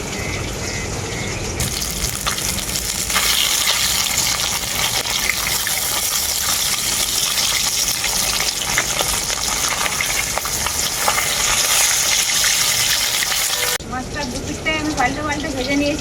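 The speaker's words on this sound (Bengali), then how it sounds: "মাছটার এক পিঠটা খুব ভালো করে ভাজা হয়ে গেছে আর এক পিঠটা পাল্টে নেবো" Fish sizzles in a wok after being turned over, giving a loud, steady crackle and hiss of frying oil up close, with occasional utensil stirring. A voice briefly speaks near the end.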